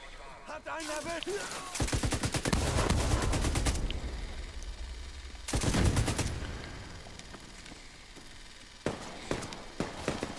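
Rapid bursts of automatic gunfire in the shooter game The Division 2, several loud volleys separated by pauses, with a few single shots near the end and faint footsteps between them.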